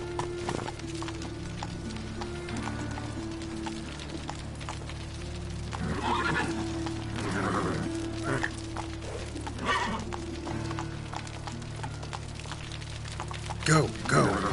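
A horse's hooves clip-clop and it whinnies in The Witcher 3, set against a steady droning game soundscape, with a sharper burst of hoofbeats near the end.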